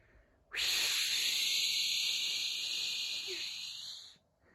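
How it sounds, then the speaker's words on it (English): A loud, sustained hiss of steam bursts out suddenly, holds steady for several seconds, then cuts off. "suddenly let off steam"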